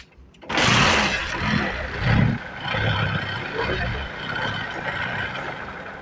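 A Honda Unicorn motorcycle starts up after a brief cranking burst and settles into a close, rough idle with small throttle blips, loud and unaccompanied.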